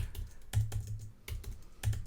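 Fingers tap rapidly on a computer keyboard while entering shortcuts, giving a quiet, close run of clicky keystrokes with slightly heavier presses at intervals.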